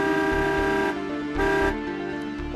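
Car horn honking in a traffic jam held up by an accident ahead, a loud sustained blare with short breaks and repeated toots, standing alone without talk.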